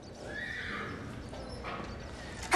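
A competition horse, one of France's best, whinnies loudly with clip-clopping hooves underneath, the neigh rising early and trailing off while the hoofbeats continue steadily to a sharp thump at the end.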